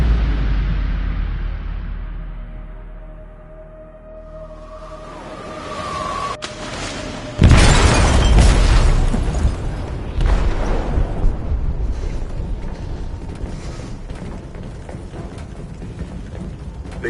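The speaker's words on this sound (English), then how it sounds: "They detonated an explosive in the hold." An explosive detonates in a ship's hold in Detroit: Become Human, a sudden loud blast following a quieter stretch of mechanical clanking, then a long rumbling roar with rattling debris that slowly fades.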